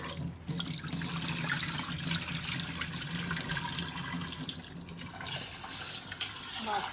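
Kitchen tap water running steadily into a sink while dishes and rice are washed, a close, continuous splashing stream with occasional clinks and shifts in the flow.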